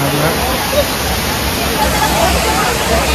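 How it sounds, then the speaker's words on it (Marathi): Crowd of visitors queuing at the Ekvira temple, a dense babble of many voices mixed with the rush of a flowing stream, steady and loud throughout. "ही आजची गर्दी आहे मित्रांनो शनिवारची."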